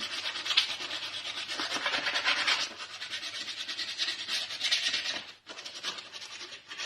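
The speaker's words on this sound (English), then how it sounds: "we will give these a scuff with the same sandpaper as before, all around these areas" Sandpaper scuffs over painted bike cranks from an old scrap frame being rebuilt as a single speed, roughening the surface for fresh paint; a steady close rasping rub with brief pauses and no talk.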